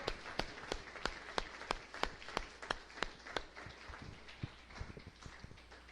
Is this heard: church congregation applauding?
yes